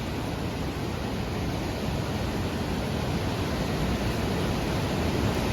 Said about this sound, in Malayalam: നല്ല ശക്തമായിട്ടാണ് വെള്ളം വരുന്നത്